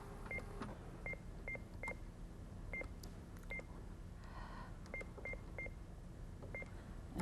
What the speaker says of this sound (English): and then just dial the number